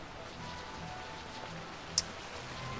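Rain falls steadily in the Final Fantasy XII The Zodiac Age video game, a soft, even hiss of drops on surfaces, quiet and constant, with one brief sharp tick partway through.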